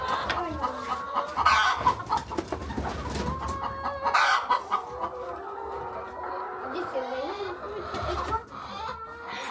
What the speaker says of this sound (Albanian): Ne në farmën tonë kemi rreth 1000 pulash.